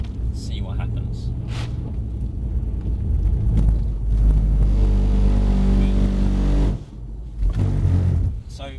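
A Mercedes C63 S AMG on the track at Mercedes Benz World rumbles deeply and builds revs under smooth acceleration, briefly lifting off before pulling again, with voices talking over the engine.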